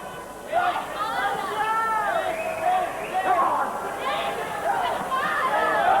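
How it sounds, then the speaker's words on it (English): Boxing arena crowd at a Joe Bugner fight, a steady murmuring hubbub of many voices with occasional swells, heard under a commentator's voice throughout. "Very pro-Bugner crowd here."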